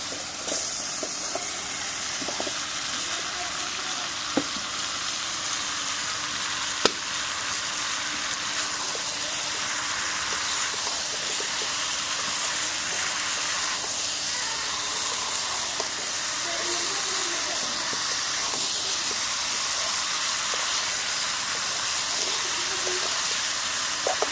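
Pumpkin dropped into spice paste frying in oil gives a steady, close sizzle and hiss that runs throughout, with a few faint stirring clicks and no talking.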